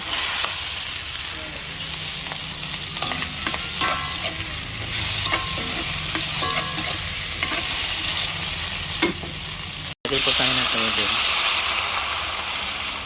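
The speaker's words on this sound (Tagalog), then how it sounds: "Lagay na rin po natin yung tokwa natin, ano?" Tofu fries in a pan with a strong, continuous sizzle and scattered crackles and utensil scrapes, broken by a short gap before the sizzle resumes; a voice talks faintly underneath.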